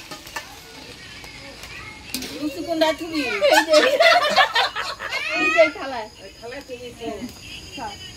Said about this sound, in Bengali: মরিচের গুঁড়া দিয়ে ভালো করে নাড়াচাড়া করে নামিয়ে দিই।